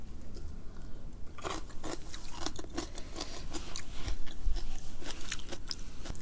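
Close, loud chewing and crunchy biting of sour kimchi during a mukbang of spicy carbonara chicken noodles and dumplings, steady wet mastication with sharp crisp bites, no talking.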